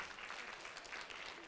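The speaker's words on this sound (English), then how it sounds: "That is a weak applause for your teammate" Thin, faint applause from a small workplace team for a teammate, brief and distant-sounding, a soft patter of scattered claps without much energy.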